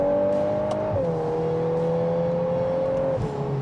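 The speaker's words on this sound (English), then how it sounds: "You downshift to second, put your foot down, there's no gap." A VW Golf R Mk8 engine pulls hard after a quick DSG downshift into second gear, its steady rising drone filling the cabin with a clear pitch step partway through, loud and continuous with no talking.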